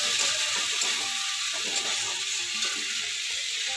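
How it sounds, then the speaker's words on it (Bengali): Fresh pond fish fries on low heat in a pan, giving a steady, close, even sizzle with faint crackles and no talking. "তো এটা ভাজতে ভাজতে মোটামুটি সেদ্ধ হয়ে যাবে অল্প আঁচে।"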